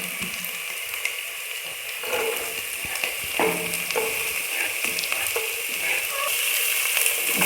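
Onions crackle and sizzle steadily in a hot pan while a few clinks of utensils sound close by, with no talking.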